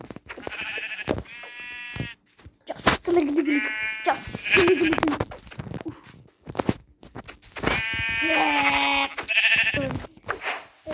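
Sheep in the video game Minecraft bleat in several wavering calls, loud and close, interspersed with a player's chatter and pauses.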